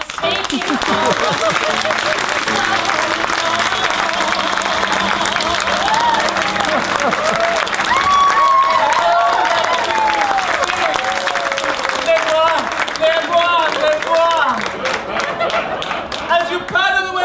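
An audience claps steadily and loudly throughout, summoning a fairy queen at a rooftop show, while a singing voice and music carry over the dense applause.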